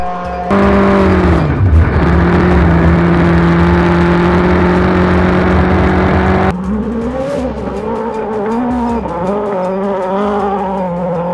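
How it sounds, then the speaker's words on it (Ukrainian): Rally race cars on closed forest and field test roads, with loud, sustained engine drones and gear changes, then a second stretch of wavering revs, close and continuous with no talking. "гоночні авто"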